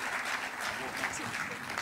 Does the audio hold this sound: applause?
yes